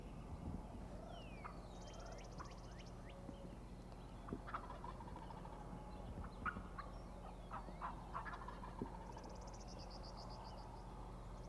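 Wild turkey gobbler gobbling outdoors in spring habitat: two rapid rattling gobbles, one early and one near the end, distant and moderately loud, over a bed of frog and insect calls and scattered chirps, no voices.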